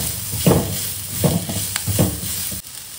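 Tomato sautéing in a pan for black chickpea kurma, a soft sizzle with three stirring scrapes at a regular pace, close and fairly loud, no talking.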